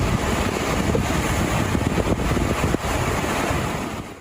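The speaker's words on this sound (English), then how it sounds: "Water rushed into neighborhoods without warning, turning highways into rivers and backyards into lakes" Floodwater surges through Texas neighborhoods, a loud, continuous broadband roar of rushing water with wind buffeting the microphone, steady for the whole stretch with no voices.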